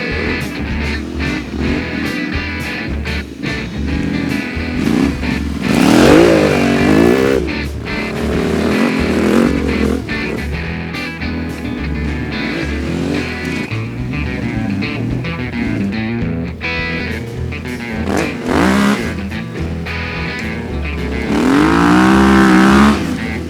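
Motorcycle engine revving hard and rising in pitch as the rider pulls a wheelie up a hill at a spring gathering at Iron Mountain in Sweden, loud and close with surges of acceleration and wind rush.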